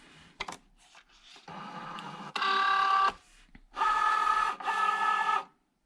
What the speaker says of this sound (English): insert smart vinyl under the guides and up against rollers to auto feed